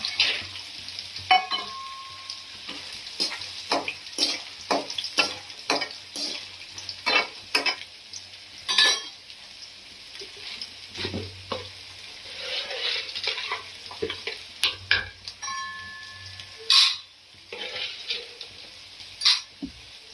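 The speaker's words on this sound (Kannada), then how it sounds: "ಬೆಳ್ಳುಳ್ಳಿ ಒಗ್ಗರಣೆ ಸ್ವಲ್ಪ ಕೆಂಪಾಗ್ತಿದೆ ಅಂದ್ರೆ" Steady oil sizzle of garlic tempering turning golden, with repeated scraping and clinking of a spoon stirring in a pan, close and busy, no voices.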